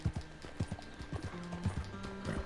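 Horse hooves clip-clop in a quick uneven rhythm in Red Dead Redemption 2, several close thuds over the short span against quiet game ambience.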